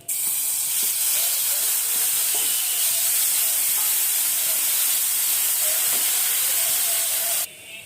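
Onion frying in hot oil for a vegetable curry, a loud steady hiss of sizzling close by with a few faint clinks, cutting off near the end.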